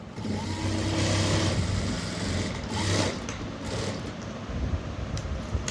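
A sewing machine stitching a blouse neckline runs steadily and close by, a dense mechanical whir with slight rises in speed, unbroken by talk.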